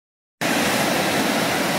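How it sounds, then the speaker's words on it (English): Steady rushing of flowing water, broadband and continuous, starting abruptly and holding at a constant loud level with no voices over it. "Don't you love the sound of water?"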